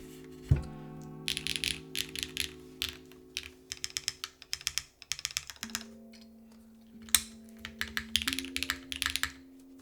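Typing on a Manta mechanical keyboard build, a quick stream of close clacky keystrokes in irregular bursts over a faint steady background hum, without talk.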